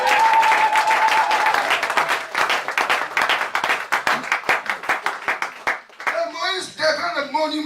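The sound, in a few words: church congregation applauding and cheering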